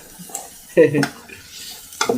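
Chicken biryani mixture stirred in a pot with salted water, a few scraping spoon strokes against the pot, close and fairly loud, separated by quieter gaps.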